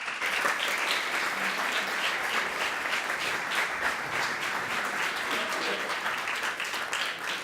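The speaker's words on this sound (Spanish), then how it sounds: "recibimos con un cálido aplauso al doctor Albano" A lecture audience at the University of Buenos Aires medical school claps warmly to welcome a doctor to the stage, steady sustained applause from a crowd heard at a moderate distance.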